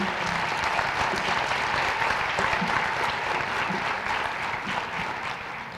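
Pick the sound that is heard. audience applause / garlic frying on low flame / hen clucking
audience applause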